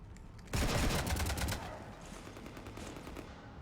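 Gunfire in the Mass Effect video game: a loud burst of rapid shots lasting about a second, then a lower rumbling tail of weaker fire and ambience with no voices.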